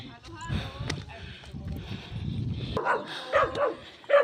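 A dog barks at hikers climbing a steep mountain trail near Buscalan, Sagada, with short yelping barks over the first seconds. People talk and pant throughout.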